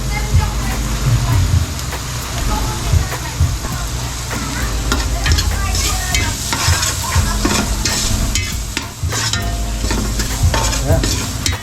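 Loud, continuous sizzling of oil in a pan as annatto is added and stirred, with crackles and the scrape of a utensil over steady frying noise that runs the whole time.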